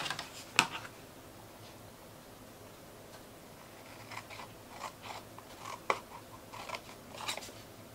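Scissors cut through material in quiet indoor surroundings, giving a few faint, scattered snips and clicks spread over several seconds. No one speaks.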